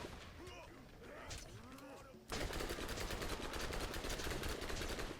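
Gunfire in the video game Borderlands: after a couple of seconds of someone talking, loud rapid automatic shots break out and continue in a dense, sustained stream.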